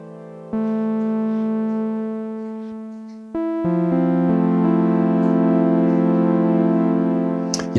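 Korg Prologue synth notes and chords with subtle LFO pitch wobble, a few successive held tones changing pitch in steps, steady and loud with no voices.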